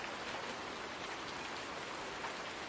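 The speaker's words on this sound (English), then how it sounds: "The fact that it's raining," Steady rain pours down outdoors on a farm in the Susquehanna River Valley, a dense, even hiss of drops striking surfaces that stays constant throughout with no voices.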